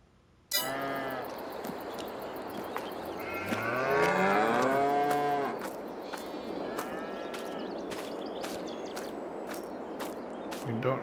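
Cows on a Missouri farm in Farming Simulator 22 give several loud, drawn-out moos that overlap one another, over a steady background of farm ambience.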